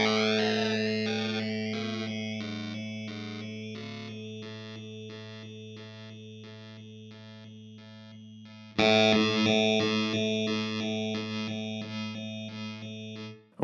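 A Red Panda Bitmap effects pedal chops a sustained guitar note into a steady rhythmic stutter set by its frequency and depth knobs, fading slowly before a fresh note is struck and the pulsing continues.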